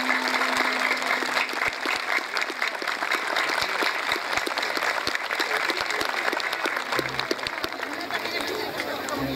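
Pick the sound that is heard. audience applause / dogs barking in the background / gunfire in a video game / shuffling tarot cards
audience applause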